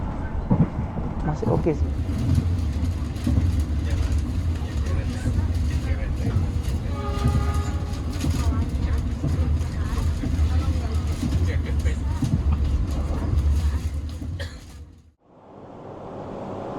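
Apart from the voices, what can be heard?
inside a business-class car of the Malabar train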